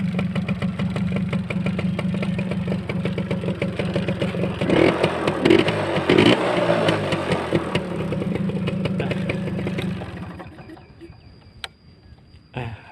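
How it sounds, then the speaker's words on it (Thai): A Honda Smile motorcycle engine, started with the kick starter, idles with a steady, soft low rumble close by. The noise swells briefly midway, then drops to a quieter tail near the end. "ลองสตาร์ทเท้าดูก่อนนะครับ เป็นไงครับเสียงเครื่องนิ่ม ๆ"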